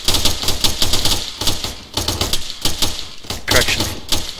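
Machine gun fire in a military video game, rapid loud bursts of shots repeating steadily with brief gaps, under occasional radio-style voices.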